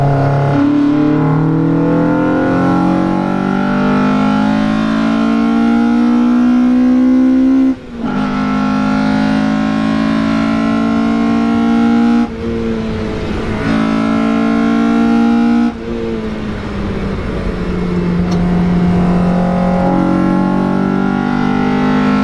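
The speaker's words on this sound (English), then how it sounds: "now enjoy the sound, enjoy how it revs" A Mazda MX5 NB (Miata) with an individual throttle body intake setup revs hard while driving uphill, its engine note climbing and falling in long sweeping pulls with brief gear-change dips, loud and close.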